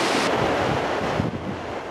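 A large waterfall near the Vatnajökull glacier in Iceland roars from a distance as a steady, broad wash of rushing water, with wind buffeting the microphone throughout.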